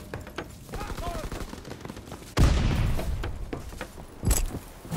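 Rapid gunfire fills a Call of Duty: WWII battle aboard the USS Texas, continuous bursts and sharp cracks with a heavy boom midway, loud and dense throughout.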